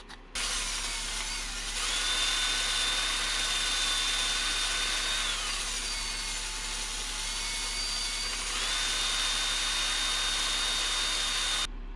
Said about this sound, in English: took the buffing wheel and got a lot of the burned off carbon